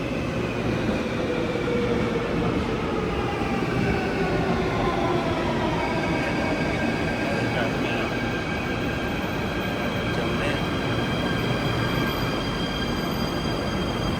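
A metro train rolls in and arrives at a station platform, a steady loud rumble of wheels with thin rising squeals and ringing tones from the rails, continuous and close.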